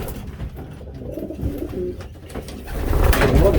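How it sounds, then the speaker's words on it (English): Breeding pigeons in a loft coo in a soft, repeated throaty murmur, several birds close by with some rustling and a louder burst toward the end. "There's a lot of birds in there"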